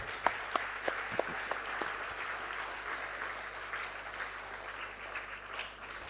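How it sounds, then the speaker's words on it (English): Thunderous audience applause at a school annual day concert fills the hall, opening with a few sharp distinct claps before settling into a dense, steady roar of clapping that carries on loudly throughout. "Let us all put our hands together and welcome everyone by a thunderous"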